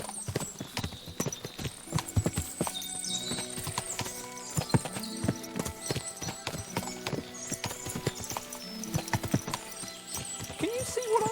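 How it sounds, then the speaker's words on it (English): Horses clip-clopping on the ground in the video game Kingdom Come: Deliverance II, many irregular hoofbeats near and far with an occasional whinny, and a voice speaks at times over the steady hooves. "What a lot of horses!"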